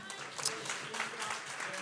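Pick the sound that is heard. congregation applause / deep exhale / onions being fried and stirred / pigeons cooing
congregation applause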